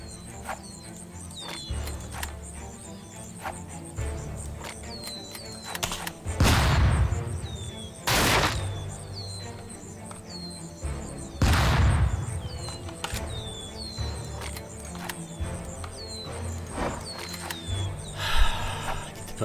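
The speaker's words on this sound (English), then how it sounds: "Perfect flashbang." Gunfire and sharp explosive bursts, including a flashbang grenade, punctuate a tense Tastee: Lethal Tactics firefight, with two big booms standing out over scattered shots, clicks and chirpy interface noises.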